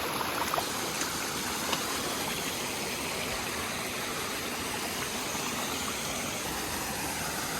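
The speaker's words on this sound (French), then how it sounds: "Rémi est sur une petite cascade là." Continuous rushing and splashing of water tumbling over a small cascade in a mountain stream in the Vercors, steady and fairly close, with no voices.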